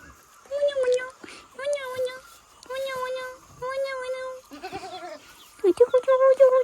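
A billy goat bleats repeatedly in drawn-out, wavering calls, close and fairly loud, with short pauses between cries and a person speaking nearby.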